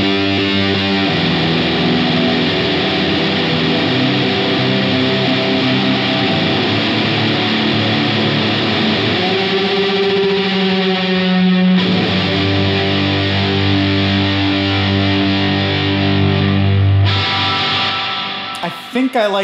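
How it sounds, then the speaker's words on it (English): Electric guitar runs through a Strymon Bluesky reverb pedal set to a long tail with high decay, playing loud sustained chords that wash and ring out, with a few abrupt changes in tone and a brief tail at the end. "I will just kick on a long-tailed reverb from the Bluesky with the decay set fairly high"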